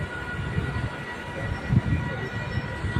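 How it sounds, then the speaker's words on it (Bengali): A train rumbles and grinds as it slows toward a stop, heard from inside with a steady low clatter of wheels and a faint high squeal of brakes. "এই যে এখন ট্রেন থামবে"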